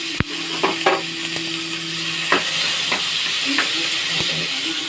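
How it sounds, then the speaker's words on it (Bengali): Onions with black cumin seeds and green chillies frying in oil in a pan, a constant loud hiss of sizzling with a few scattered clicks and taps from stirring. "পেঁয়াজটা হালকা করে ভেজে নিলাম।"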